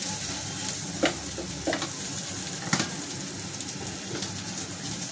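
Prawns roasting on a hot griddle pan in a home kitchen, a steady close sizzle and crackle with faint stirring clicks and no talk.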